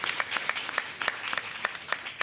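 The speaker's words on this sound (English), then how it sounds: "Please give them a big round of applause." An audience at a mayoral event on school test-score gains applauds two ward council members, giving steady, close clapping of many hands that holds at an even level for a couple of seconds.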